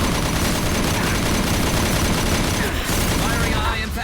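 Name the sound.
assault rifle gunfire in Mass Effect 2 video game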